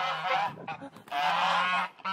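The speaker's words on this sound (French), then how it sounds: "Pourquoi elles sont dans cet état, les oies là?" Geese honking close by in repeated loud, nasal calls, two long bursts separated by a short gap, with no talking.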